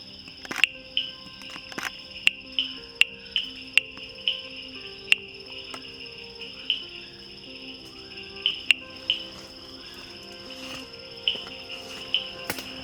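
An Amboli bush frog calls in the rainforest with short, sharp, cricket-like clicks repeated at irregular intervals, faint against a quiet background hiss.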